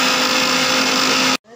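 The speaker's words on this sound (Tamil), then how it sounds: "இந்த வாழைப்பூ கூட்டுக்கு இந்த தேங்காய் மட்டும் அரைச்சி எடுத்துக்கலாம்." A mixer grinder whirs loudly and steadily as it grinds coconut for a banana flower kootu, a continuous high motor drone that cuts off abruptly near the end.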